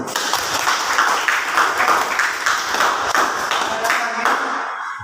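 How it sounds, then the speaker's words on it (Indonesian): Students in a classroom clap for a classmate named Francisca, a steady burst of applause from a roomful of hands that fades out at the end. "Aplaus dulu buat Francisca."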